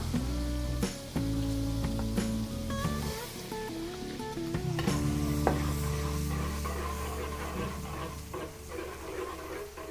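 Garlic sautéing in margarine in a pan, a steady sizzle with occasional stirring scrapes, running under prominent background music.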